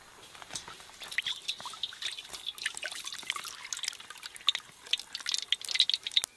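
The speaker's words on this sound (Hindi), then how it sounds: "ऑयल पैकेट डालेंगे उसमें।" Cooking oil poured from a packet into a hot kadhai, heard as a steady, fine liquid trickle with small drips and light sizzling crackles, close and fairly quiet, with no talking.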